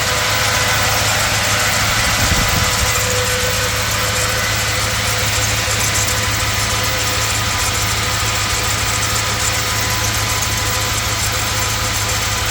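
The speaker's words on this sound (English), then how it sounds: "Fan is what makes all that noise" On a 1954 Chrysler New Yorker with a new radiator, an added engine cooling fan roars steadily and loudly next to the idling engine, a constant dense whoosh that never lets up.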